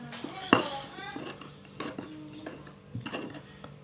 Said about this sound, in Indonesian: Pertama yang diulek adalah tempenya dulu, diulek.